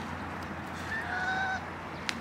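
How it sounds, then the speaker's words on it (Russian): Geese honk by a river in Alanya, Turkey, with a few clear nasal calls over steady outdoor background noise and a brief sharp knock near the end. "Гуси. Они прямо ждут."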